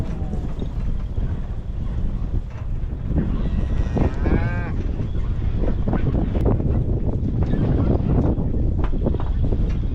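Cattle low nearby, a few drawn-out moos over a rumbling outdoor background with scattered knocks and movement.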